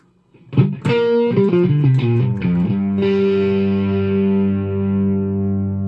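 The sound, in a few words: guitar through Super Reverb amp model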